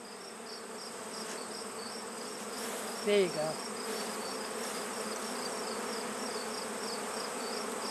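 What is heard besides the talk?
honeybees buzzing around a hive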